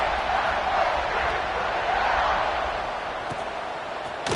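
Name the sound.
football stadium crowd buzzing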